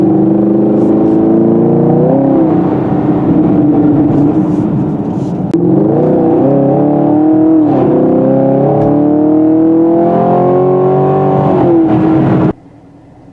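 A strong small-block V8 in a 2020 Chevrolet Camaro 2SS revs loud and close, its pitch climbing and falling through several long pulls before cutting off abruptly near the end.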